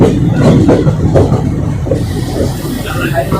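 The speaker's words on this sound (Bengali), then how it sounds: "এখন আমাদের ট্রেন ঢুকছে পাঁচুন্ডি" A passenger train on the Ahmadpur–Katwa line rolls into Panchundi station, a steady broadband rumble of wheels and carriages with faint rhythmic clatter, close and continuous for the whole stretch.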